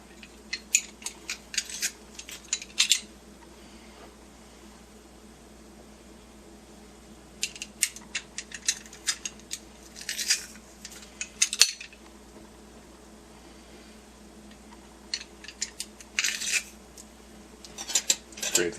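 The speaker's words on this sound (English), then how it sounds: "Got this little ingenious garlic press." Garlic squeezed through a small metal garlic press while making Salisbury steak with onion mushroom gravy, giving several bursts of close metallic clicks and squeaks separated by quiet pauses.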